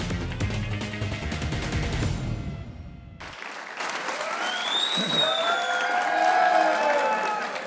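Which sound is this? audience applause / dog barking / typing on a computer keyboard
audience applause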